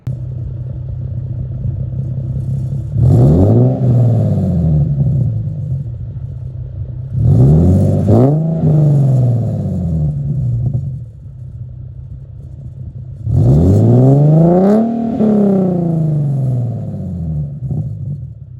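A Nissan 370Z fitted with a Greddy GPP RS-Race catback exhaust revs three times in a row, each time climbing higher, with a loud raspy rise that falls back to a steady, rumbling idle.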